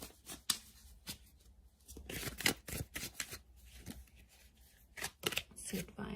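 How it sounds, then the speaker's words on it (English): Tarot cards shuffled and laid out in crisp, papery bursts of riffling and slapping, several quick flurries up close, while a voice talks over parts of it. "Let's lay out a couple cards from the universe."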